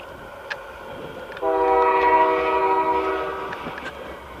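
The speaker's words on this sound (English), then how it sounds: "how about that train?" Train horn blaring at a distance near a homestead, one sustained chord-like blast that rises, holds for a couple of seconds and fades, over a low background rumble.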